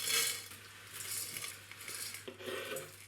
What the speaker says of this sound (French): Hop, on verse ça dans la casserole.